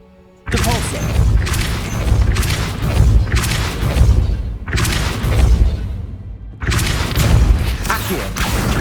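Spell blasts cast in Hogwarts Legacy, a series of loud booming bursts about every one to one and a half seconds with brief gaps, in dense whooshing game effects.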